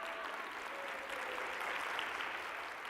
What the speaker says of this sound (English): I need a round of applause, you guys.